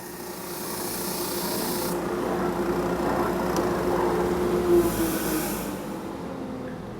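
A JET oscillating spindle sander with a 60-grit sleeve grinds steadily against wood, a continuous close rubbing rasp over motor hum that swells slightly as pressure increases.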